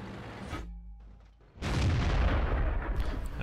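A loud in-game blast from the M53/55 self-propelled artillery in World of Tanks: a sharp boom near 1.6 seconds followed by a sustained heavy rumble, after a quieter stretch of low mechanical hum.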